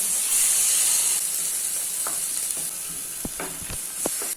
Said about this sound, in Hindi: और जो ऑनियन टमाटर का मसाला बनाया था वो ऐड कर देते हैं और मिक्स कर लेते हैं।